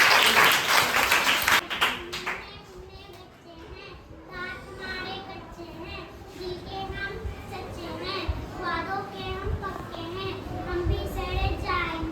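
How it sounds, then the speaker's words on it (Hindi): Children clapping together at a school event, a burst of applause at the start that fades, followed by kids' voices chattering and calling out over a lively room. "खुशी के लिए पहले तालियां बजाओ"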